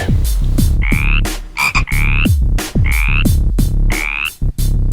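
Loud, close frogs croaking in a repeating rhythm, deep throaty pulses alternating with higher rasping calls, with no other sounds.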